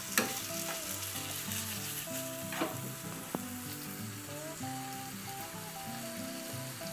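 Food sizzles and fries in a hot pan while it is stirred, a steady crackling hiss broken by a few sharp scrapes and knocks. A low background hum runs underneath, and no one speaks.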